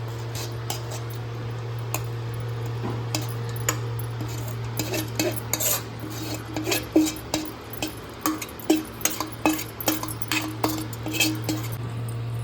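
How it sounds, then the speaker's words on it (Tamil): Paniyaram batter being stirred in a bowl with sautéed coconut mixed in, giving irregular spoon-on-bowl clinks and scrapes that grow louder and more frequent toward the end over a steady low hum. "இப்போ மாவு நல்லா கலக்கிக்குங்க."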